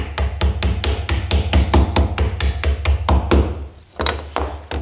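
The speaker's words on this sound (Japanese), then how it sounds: "ここから行かずにちょっと手前から叩いてやります。" A wooden chisel being struck with a mallet while chopping out a half-lap joint for a handmade stool: a steady series of sharp, close knocks at a quick, even rhythm, with a short pause near the end.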